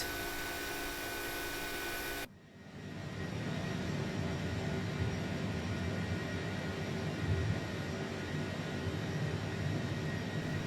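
An Airbus A330 jet takes off in Microsoft Flight Simulator, a steady loud engine roar that cuts abruptly to a lower, broadband rumble partway through and then holds constant.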